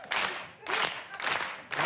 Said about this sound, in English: Do you need, like, a rhythmic applause?